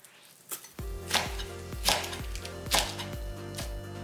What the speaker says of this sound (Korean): 알배추 150g은 2cm 넓이로 어슷하게 썰어